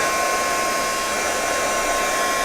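A hair dryer runs steadily and loudly at close range, blowing on the pieces of a scrapbook mini album, with no other sound.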